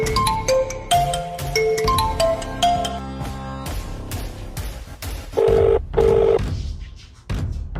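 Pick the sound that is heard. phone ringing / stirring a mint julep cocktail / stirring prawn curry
phone ringing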